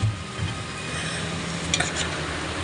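Pieces of fried chicken sautéing with tomatoes in a pan for Kapampangan kinamatisang manok, a constant close sizzle with stirring scrapes and a couple of brief utensil clinks near the end.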